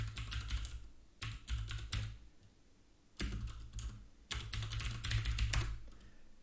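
Python code being typed on a computer keyboard during a livestream, with rapid close key clicks in several bursts separated by short pauses, fairly quiet and with no talk.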